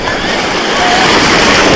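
Sea waves wash at a crowded beach in Blagoveshchenskaya, a loud, continuous broadband roar of surf mixed with wind buffeting the microphone, with no clear talk.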